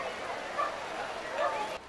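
Dogs barking at an outdoor pool's annual Pooch Plunge event, a couple of short yips rising over a steady crowd din of people talking and splashing.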